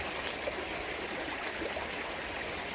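Water flows steadily in a stream past a broken, washed-out dam, a continuous broadband rushing with no talk.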